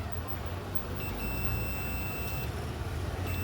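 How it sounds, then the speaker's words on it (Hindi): A multimeter's continuity buzzer sounds as its probes test a shorted bridge diode on a Whirlpool washing machine power supply board: a thin, high tone switches on and holds for over a second, then returns briefly, over low background hum. "पूरा बजर का आवाज़ सुन रहे होंगे आप मल्टीमीटर में"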